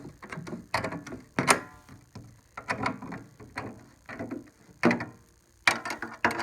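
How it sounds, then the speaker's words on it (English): A drum key turns the tension lugs on a snare drum, giving repeated short ratcheting metallic clicks in uneven bursts with pauses between turns, close and fairly clear. "we're actually ready to start doing the tuning of the snare drum with the drum key"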